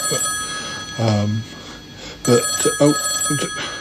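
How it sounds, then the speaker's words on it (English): Telephone ringing with an incoming call, a steady high electronic tone running under brief bursts of nearby talk. "We're getting a phone call from Yeti Uncle John."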